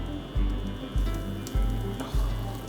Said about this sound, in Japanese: フライパンに油を適量引きまして焼いていきます。